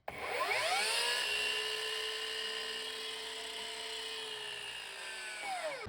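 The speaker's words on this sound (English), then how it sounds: "So when you want to cut a piece of wood, You start with the safety latch, and then you let it catch the speed, and then you cut your wood" A mitre saw whines up to speed, holds a loud, high, steady spin while cutting wood, then winds down near the end.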